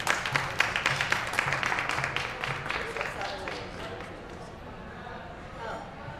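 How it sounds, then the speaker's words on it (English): Audience clapping for Giovanna at a DreamSteerers 2021 event, a burst of fairly close, dense applause under a murmur of voices that tapers off after a few seconds into quieter room noise. "Give a clap for Giovanna."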